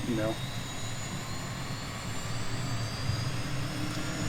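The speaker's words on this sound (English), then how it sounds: "I love the way it sounds starting up, and where it sounds, the engine sounds great" A Cirrus Vision Jet SF50 engine in a flight simulator spools up with a brief rising whine at first, then settles into a steady, continuous roar and hum.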